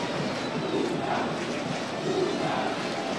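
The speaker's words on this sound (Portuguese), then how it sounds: "A torcida do Atlético agora grita o nome do Cuca, o técnico atleticano" Atlético Mineiro fans chant in a packed stadium during a football match against Internacional, a continuous rolling mass of voices with gentle swells and no pauses, heard from a distance.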